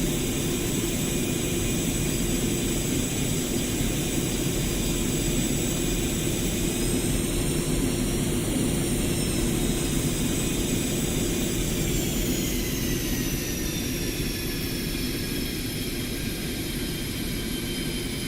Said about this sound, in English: increase thrust of both engines to maximum and use gentle inputs on the rudder